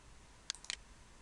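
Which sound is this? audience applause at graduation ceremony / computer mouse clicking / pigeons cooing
computer mouse clicking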